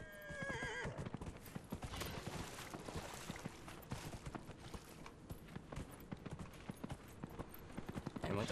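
A horse in the video game Dragon Age Inquisition neighs and then gallops, with rapid rhythmic hoofbeats driving on steadily and fairly close over game ambience.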